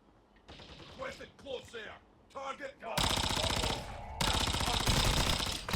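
Automatic gunfire in Call of Duty Warzone, played on a POCO F6 phone, erupts in a loud, continuous rattling stream after someone talks over quieter game sounds, pausing briefly before resuming.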